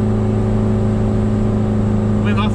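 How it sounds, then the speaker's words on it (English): A vintage Toyota camper van's engine labours hard uphill at full throttle, a loud, steady low drone with heavy rumbling harmonics that persists throughout, the strain audible without a break. "When my foot is flat, can you hear the engine dying?"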